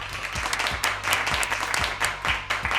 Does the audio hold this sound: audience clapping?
yes